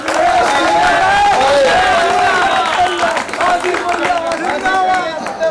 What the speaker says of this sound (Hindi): आशीष भैया आप एक बार तालियां बजाओ आशीष के लिए।